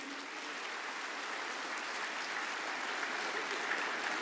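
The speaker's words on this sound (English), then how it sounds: "Can we have a round of applause" Audience in a large hall at the Make in Odisha Conclave breaking into sustained applause, an even, dense clatter of many hands that builds slightly and continues without talk.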